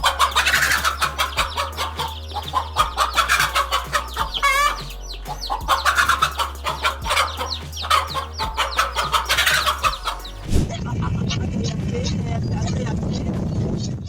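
A chicken clucks and squawks while squaring off against a king cobra, its calls coming in repeated bursts over a busy, layered background that drops into a steady, rougher noise near the end.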